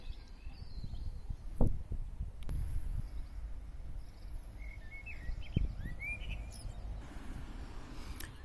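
Birds chirp in short, scattered calls around an outdoor spot in Ryde, England, in spring, some close and some farther off, over a low rumble of wind and distant traffic, with a few thumps along the way.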